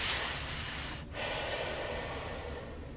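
A voice breathes in sharply with the tongue set in the fricative th position, a long hissy airy inhalation near the mouth, briefly pausing and then continuing, no speech.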